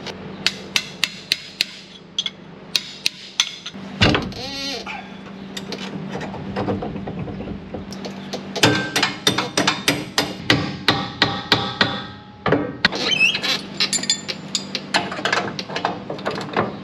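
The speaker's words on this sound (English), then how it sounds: "let me get this bearing tapped in just a little more" Sharp, ringing hammer blows tap a bearing into place on farm equipment at harvest time, struck in bursts of rapid, uneven strikes with short pauses between, close and loud over a steady low mechanical hum.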